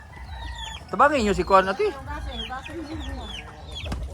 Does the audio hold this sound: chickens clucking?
yes